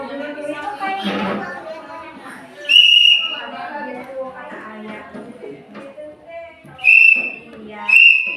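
A whistle gives three short, shrill blasts, imitating a traffic police officer's whistle during a kindergarten traffic lesson. Children and a teacher talk throughout, between and around the blasts.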